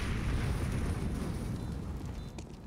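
A grenade detonates in a CS:GO esports match, a broad rumbling blast that fills the clip and slowly fades, loud with no talk over it.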